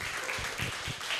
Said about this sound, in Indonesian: boleh lagi kita tepuk tangan untuk Sultan Raffi